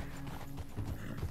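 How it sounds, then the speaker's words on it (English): Horse hooves clip-clop in a steady rhythm in Red Dead Redemption 2, close and clear while the rider heads through a canyon, with game music or ambience underneath. "I'm already on my horse."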